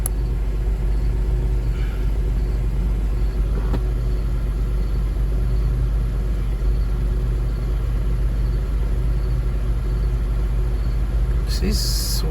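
Steady low idle rumble from a 2006 Buick Lucerne engine with a misfire, continuous and close, with a few faint clicks and a brief rattle near the end.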